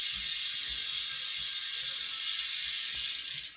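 A Hunt road bike wheel with a ceramic-bearing hub freewheeling, its ratchet pawls giving a fast, steady, quiet clicking buzz close up that swells slightly near the end and then stops.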